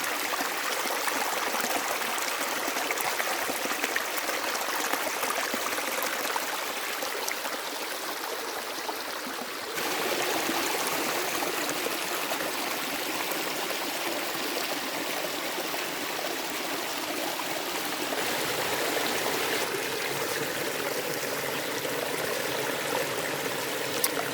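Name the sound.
small river stream flowing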